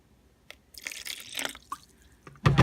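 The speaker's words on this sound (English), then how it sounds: "so I'm going to add more apple cider vinegar" Apple cider vinegar splashing into a broccoli salad, with short liquid pours and drips, some wet rustling of the mixture, and a louder final splash, close and fairly loud.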